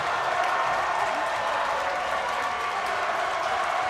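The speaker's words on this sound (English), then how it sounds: "You hear the crowd. It's getting loud and rowdy here in Kingman." A high school basketball crowd in a sectional semifinal gym roars steadily, a dense broad wash of cheering and applause that stays loud and rowdy throughout, heard from within the stands.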